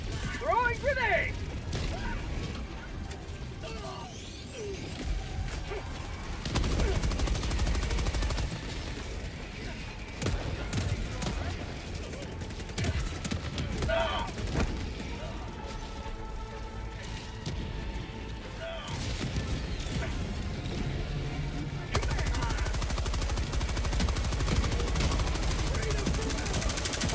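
Gunfire from a sentry turret in the Helldivers 2 video game, mixed with other shooting and mechanical clatter, loud and continuous for nearly half a minute with busy bursts and shifting intensity.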